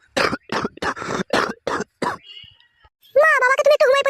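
A father coughs six times in a row, loud and close, in harsh rhythmic bursts, followed by a voice talking.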